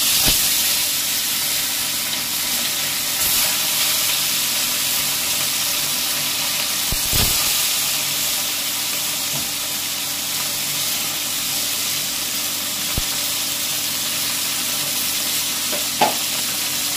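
Spiced potatoes sauté in a pan, a continuous even sizzle throughout with a few faint stirring clicks and no talk.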